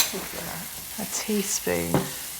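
Close, steady sizzling of garlic and ginger frying in spices in a pan, with voices speaking over it.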